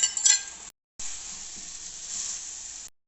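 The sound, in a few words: omelette pieces added and stirred into egg karahi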